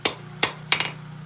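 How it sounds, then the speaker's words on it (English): Three sharp hammer strikes on hot metal while forging blacksmith tongs, irregularly spaced and ringing slightly, over a low steady hum. "as I'm moving around and hammering"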